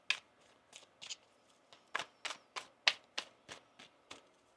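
Tarot cards being shuffled, a run of about a dozen crisp riffling bursts at an uneven pace, close up and alone with no talking.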